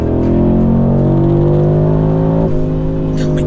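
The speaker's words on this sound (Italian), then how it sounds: "Sound del 5 cilindri." A roughly 900-horsepower five-cylinder car engine in performance mode accelerates loudly and close up, its rising harmonic drone pulling hard, then briefly dipping as it shifts before climbing again.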